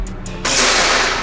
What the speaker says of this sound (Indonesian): Ini tembakan yang ketiga.